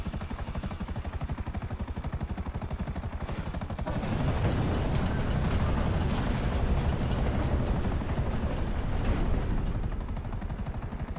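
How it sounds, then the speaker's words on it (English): A diamond blue helicopter in the video game GTA 5 gives a steady rotor thrum with rapid chopping pulses, close and constant, swelling louder midway and holding there. "I actually like my diamond blue little helicopter."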